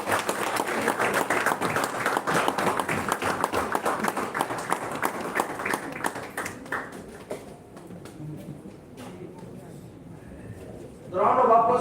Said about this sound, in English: The round of applause should go on